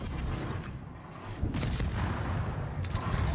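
Main battery guns of the cruiser Atago firing in World of Warships, a dense, continuous rumbling roar of heavy booms and cannon blasts with a sharper salvo crack midway, loud and close.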